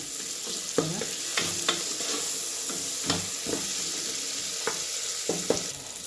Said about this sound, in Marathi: आता हे सगळं चांगलं एक मिनिटभर असं भाजून घेऊया